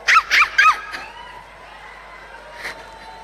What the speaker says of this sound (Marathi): कुत्री कोणी हात सोडली